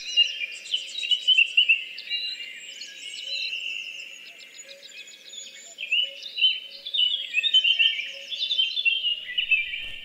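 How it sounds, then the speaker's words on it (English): A willow warbler sings overhead in an April dawn chorus, its sweet descending phrases repeating in bursts over a continuous bed of other birdsong, loud and clear with no talking. "So just above us we have a willow warbler."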